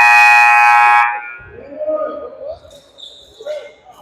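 A loud game clock buzzer at a pickleball championship match blares steadily for about a second, then cuts off into softer court noise and indistinct voices.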